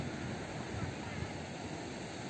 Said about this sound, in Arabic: البحر هايج